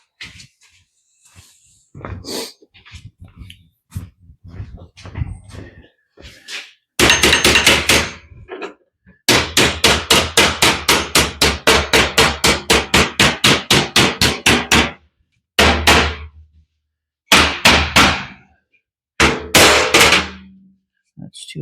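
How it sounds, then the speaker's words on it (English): A body hammer beats sheet metal on the bottom corners of a 1941 Ford two-ton truck cab in a garage, with scattered taps, then bursts of fast, loud, close strikes broken by short pauses. "Let's get my body hammer."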